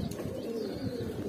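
A pigeon, a male bird, coos softly in a short low burbling call, faint and close, with no other sound over it.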